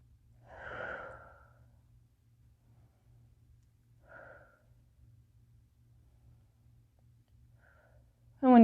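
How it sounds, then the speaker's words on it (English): Slow, quiet breathing held during a yoga pose in a vinyasa flow, a soft breath near the start, then fainter ones spaced seconds apart over a low steady hum. "Take a few breaths here."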